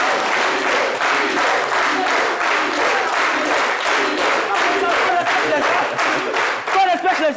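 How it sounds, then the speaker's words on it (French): A studio audience on a French midday talk show bursts into sustained applause, dense rhythmic clapping that holds steadily for several seconds before thinning out as a voice comes in. "Docteur Philo, sous vos applaudissements."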